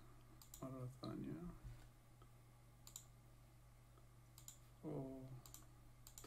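Sparse, faint clicks of Arabic text being typed on a computer keyboard in Photoshop, a handful of scattered keystrokes, with someone speaking in between.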